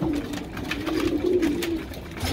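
Racing pigeons at a breeding loft coo steadily and close by, a continuous low warbling murmur running through the whole stretch with no speech over it.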